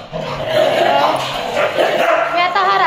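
A dog barks and yips at night in a house during a wedding anniversary celebration, short sharp bursts close by mixed with people talking over it.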